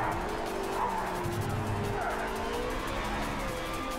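Race car tyres sliding in the video game Project CARS 3, a Formula B car at Interlagos, with a continuous engine drone overlaid by wavering squealing tones rising and falling as the car slips.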